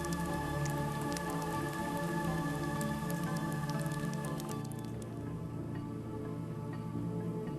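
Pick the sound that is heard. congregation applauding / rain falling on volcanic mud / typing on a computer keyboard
rain falling on volcanic mud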